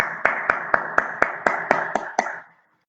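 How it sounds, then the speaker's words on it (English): Children in an online class clap together for a classmate, giving nine sharp, evenly spaced claps in a steady rhythm that stops abruptly into silence. "Clap for Maham."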